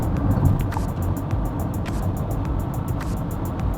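A Peugeot e-2008 electric SUV accelerates to overtake on a road, its steady, loud cabin hum of road and wind noise rising slightly, with faint ticking over the constant roar.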